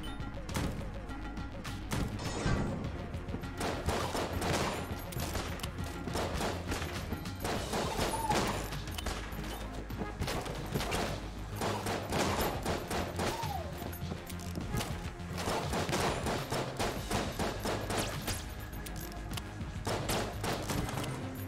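Enter the Gungeon gunfire rattles on in a steady barrage of quick shots and crashing hits, close and loud from start to finish with only brief dips in intensity.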